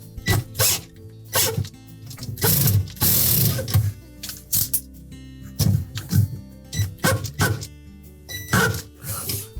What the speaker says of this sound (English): first we'll just try to hold that impeller by hand and try removing that screw.